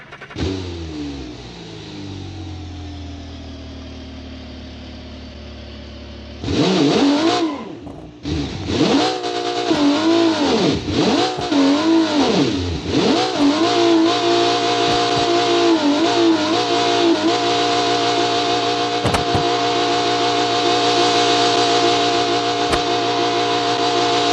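An engine from a Supra, fitted to a car in the BeamNG video game, cranks and catches, then revs repeatedly in sharp rising and falling bursts before settling into a loud, steady idle, with no talking.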